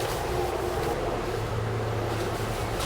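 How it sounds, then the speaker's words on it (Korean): Strong wind blows at a campsite in Inje, making a loud, continuous rushing roar with low buffeting that fills the whole stretch, with no talking. "바람이 아주 많이 불고 있습니다."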